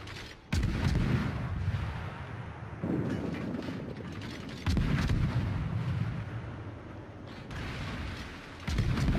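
Heavy naval gun blasts fired in a Vietnam War-era video game, a Monahan-class ship's shells: several booming, reverberant shots arrive at irregular intervals, each a loud broadband thump with a long rumbling tail.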